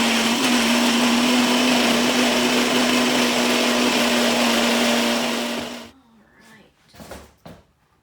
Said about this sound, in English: now you have to blend up all of those ingredients